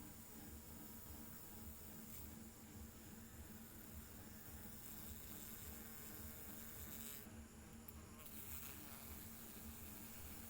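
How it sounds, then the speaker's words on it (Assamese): A small flying insect, called a futi pok in Assamese, buzzes steadily and up close for the whole stretch, with a constant drone and little change in loudness. "এয়া হ'ল ফুটি পোক।"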